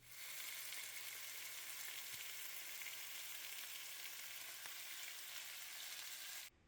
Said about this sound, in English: So let's start by frying our chicken, but first let me heat up some oil.